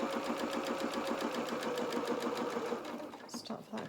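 A domestic sewing machine stitches the collar of a doll's waistcoat with rapid, even, close-up stitching that runs steadily, then slows and stops near the end.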